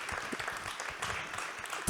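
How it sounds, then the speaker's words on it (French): An audience at a public evening meeting in Fresnes claps briefly after a presentation, a short burst of quiet, fairly distant applause lasting under two seconds. "On peut l'applaudir."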